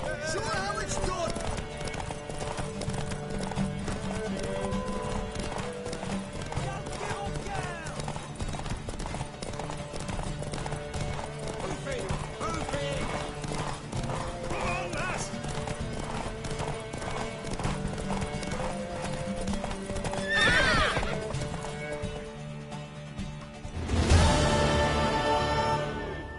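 Rhythmic clip-clop of a galloping horse in The Witcher 3 runs throughout, then a loud neigh near the end, with game music and voices underneath.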